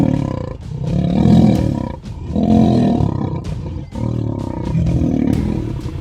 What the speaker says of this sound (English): Two lions square off, their roars echoing like thunder across the plain.